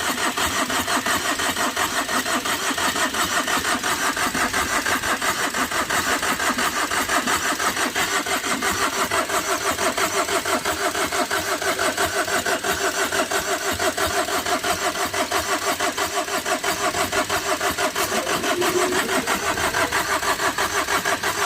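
Tata Vista car engine after overheating, cranking and running steadily for the whole stretch, a continuous mid-pitched mechanical drone close by with no talk.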